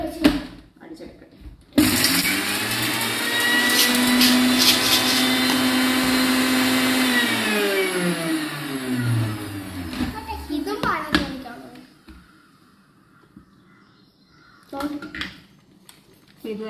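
A mixer grinder whirs loudly and steadily for about ten seconds as it grinds a coarse spice paste for fish curry, winding down at the end, while someone speaks briefly before and after.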